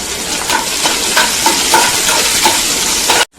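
Chopped green chillies and dried red chillies frying in hot oil, a loud continuous sizzle with spatula stirring taps throughout, close up, ending abruptly.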